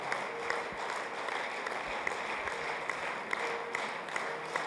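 Audience applause at a church gathering, a steady wash of many hands clapping at moderate volume, continuous throughout with no distinct voices over it.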